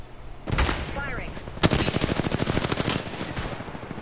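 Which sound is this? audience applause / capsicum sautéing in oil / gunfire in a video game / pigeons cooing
gunfire in a video game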